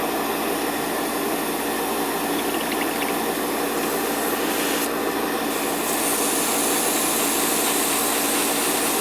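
An airbrush hisses steadily as it sprays thin paint onto a Gundam model, with a constant broadband spray and a brief sputtering change partway through.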